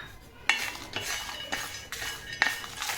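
A spoon scrapes and clatters against a pan as peanuts and dried chillies are stirred and roasted, repeated rhythmic strokes with sharp metallic clicks, close up with a faint sizzle beneath.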